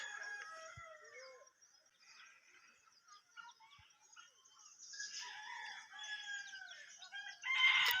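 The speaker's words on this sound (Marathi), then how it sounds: "इकडे तर पक्षी ओरडतात." Faint birdsong and chirping fill a quiet outdoor space in Shirale village, Maharashtra, with a rooster crowing in the distance and a louder burst of calls near the end.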